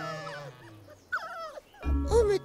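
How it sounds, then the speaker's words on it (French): Cartoon dogs bark and yip in a strawberry-themed animated children's show, a few short animated barks and whimpers mixed with character voices over music. "Où sont passés nos chiens?"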